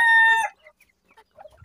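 Backyard hens give one loud, clear squawk up close, followed by a few soft, scattered clucks.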